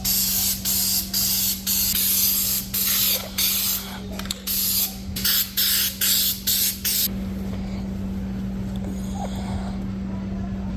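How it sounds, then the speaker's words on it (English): Spray adhesive hisses onto seat foam during Lexus RX350 seat upholstery work, in a run of short, close bursts with brief gaps between them, then giving way to a quieter steady background hum. "we'll use a spray adhesive"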